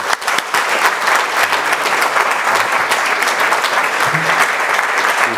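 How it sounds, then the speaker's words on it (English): Sustained applause from a wedding audience, dense and steady clapping filling the room for several seconds without pause, with no voices rising above it. "A big hand, please, for a wonderful wedding, a great wedding party"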